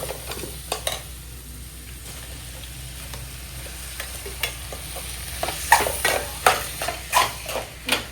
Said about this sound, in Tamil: ப்ரான் சேர்த்து நல்லா வதக்கிக்கலாம்.